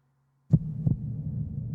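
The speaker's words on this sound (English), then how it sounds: "it's just his heartbeat." A heartbeat sound effect in an anime episode: two soft low thumps about a third of a second apart, followed by a steady low hum, after near silence.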